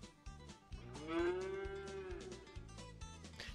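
A cow in the farming video game Agrar Simulator lets out one long, loud moo lasting over a second, set against a pulsing music track that continues beneath it throughout.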